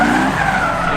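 A C6 Corvette drifting through a corner at a drift competition, its tires squealing in a steady, loud skid over continuous engine roar.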